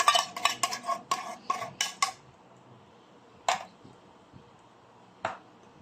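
A utensil clinks against a bowl as cream is stirred for a corn dish, first as a quick run of taps and scrapes, then as two isolated knocks after a quiet pause.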